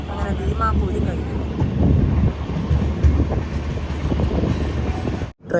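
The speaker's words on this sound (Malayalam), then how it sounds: "ട്രെയിൻ ഇപ്പോൾ ഒരു സ്റ്റേഷനിലെത്തിയിരിക്കുകയാണേ" Rumble of the Vivek Express running into a station, a steady loud low drone with rattling carriage noise and wind buffeting throughout, briefly cutting out near the end.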